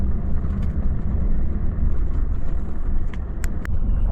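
An empty Volvo FH 540 truck drives on a long road haul from Yakutsk, giving a steady low engine and road rumble heard from inside. A few faint ticks rise near the end.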